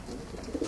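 Pigeons coo softly inside a loft housing widower cock racing pigeons, a low steady murmur with a couple of brief louder swells near the end.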